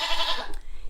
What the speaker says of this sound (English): she's stressed out because the other goats are hollering